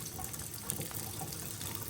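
Steady water streams from an indoor faucet over a hand held beneath it, a continuous close splashing hiss with no pauses and no talking.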